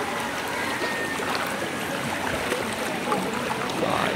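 Floodwater rushing down a flooded road in Mindoro after heavy rain, running like a river; a steady, broad wash of flowing water fills the clip continuously with no break.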